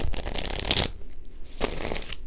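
A tiny tarot card deck is shuffled close by, two brisk riffling bursts with a quiet pause between, and no talking.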